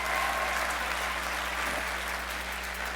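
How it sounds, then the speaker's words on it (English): A comedy show audience gives a round of applause for a woman, an even, continuous patter of clapping at moderate volume over a low steady hum, with no talk. "give her a big round of applause"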